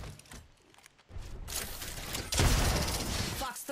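A Valkyrie firing missiles in a video game, a loud rushing barrage that builds and swells into dense rumbling blasts, close and continuous.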